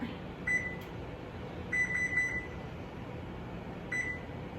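Electronic beeps from a gas oven's timer as it is being set: a short beep, then a quick run of three, then one more, clear and close over a low kitchen hum.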